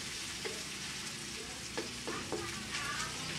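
Garlic and onion sauté in a pan for vegetable spring roll filling, a faint, soft sizzle broken by a few light scrapes of stirring, with no one talking.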